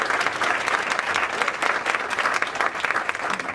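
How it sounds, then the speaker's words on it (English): A crowd at a post-midterm election event in Washington, DC claps steadily and fairly loudly throughout, a dense, even wash of applause with no break and a faint murmur of voices underneath. "Give them a big round of applause."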